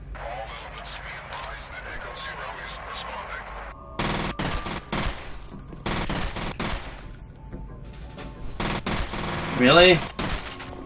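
Dense gunfire from the video game F.E.A.R. starts partway through and continues as rapid, loud volleys. A voice speaks briefly over the shooting.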